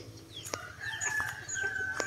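A rooster crows from a backyard rooster pen, a drawn-out call with thin, bright overtones, while other fowl chirp and cluck nearby over a low outdoor hum.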